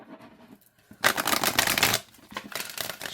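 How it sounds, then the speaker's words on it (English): An oracle card deck is shuffled by hand in two quick bursts of riffling, crisp card flutter heard up close, with a brief pause between them. "All right, let's see how they shuffle."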